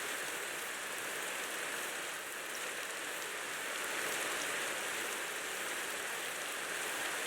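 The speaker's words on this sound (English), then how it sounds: "Oh, it's raining." Rain in the Minecraft video game, a dense, steady hiss of falling drops that holds evenly throughout with no voices.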